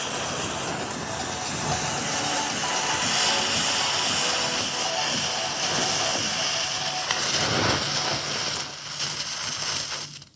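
Homemade firework of potassium nitrate (KNO3) and sugar burning: a loud, sustained hissing roar for about ten seconds that cuts off abruptly at the end.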